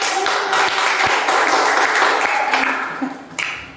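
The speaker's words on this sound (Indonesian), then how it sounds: "Kita berikan aplaus sekali lagi." Audience applause in a classroom-style presentation session, dense steady clapping from a group that fades toward the end, with a few sharper claps standing out.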